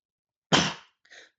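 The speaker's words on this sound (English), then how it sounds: "I was trying to hold in that sneeze." A single explosive human sneeze bursts out nearby, followed by a short, quieter exhale, with silence around it.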